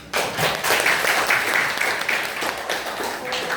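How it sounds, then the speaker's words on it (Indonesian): Classroom audience applauding together after a group presentation at a teacher training session, a burst of dense clapping that starts abruptly and holds steady for a few seconds, with a little speech mixed in. "Kita aplaus bersama-sama"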